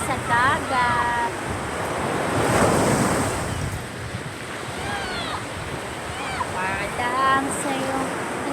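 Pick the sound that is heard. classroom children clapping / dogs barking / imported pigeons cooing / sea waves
sea waves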